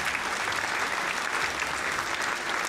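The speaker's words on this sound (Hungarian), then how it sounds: "Jár a taps nektek" A canned applause sound effect plays on a livestream: a dense, steady wash of many hands clapping, fairly loud and continuous throughout with no talk over it.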